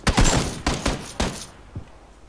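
Bursts of gunfire in the battle royale video game PUBG, several sharp loud volleys in quick succession that cut off and leave a faint thud at the end.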